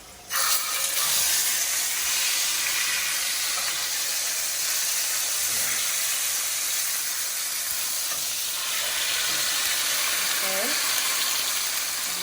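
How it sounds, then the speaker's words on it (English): Salmon fries in a hot pan with a steady, loud broadband sizzle and hiss that lasts throughout, close by, and a brief faint squeak near the end. "so I'm getting ready to fry my salmon. My pan is already hot."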